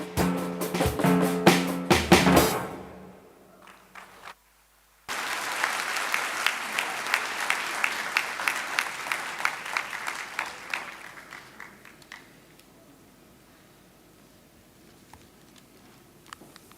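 Music ends abruptly at a graduation ceremony. After a brief silence, a hall audience breaks into sustained applause that slowly thins to scattered claps.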